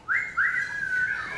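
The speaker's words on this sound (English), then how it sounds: "तो मैं चाहूंगी हम सब सीटी बजाएं." Sharp, rising whistles from a crowd at a Bollywood reporter's event celebrating the film industry. Two quick upward-sliding whistles are followed by a longer, sustained shrill whistle, loud and close, with no talking.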